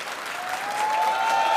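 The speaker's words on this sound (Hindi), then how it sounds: "ये वाले भी ताली बजा रहे हैं" A studio audience at a televised debate show claps steadily through a short burst, the applause building slightly louder toward the end, with a faint tonal whine running underneath.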